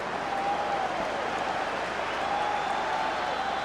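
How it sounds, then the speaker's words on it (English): Football crowd at a Rangers versus Hibernian match in 1997 gives a steady roar of applause, a broad distant wash of stadium noise with faint whistles riding over it. "it draws applause"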